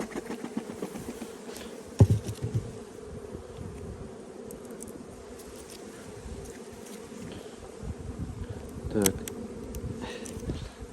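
A Carniolan honey bee colony opened in early spring, a dense steady buzz close by with occasional clicks and knocks from handling the hive, no voices.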